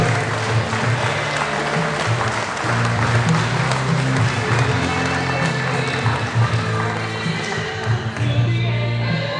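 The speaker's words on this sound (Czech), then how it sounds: "Takže ještě jednou veliký potlesk pro tyto srdce" A Czech table tennis association audience applauds at a team results announcement, steady dense clapping sustained throughout over a low hum of the hall.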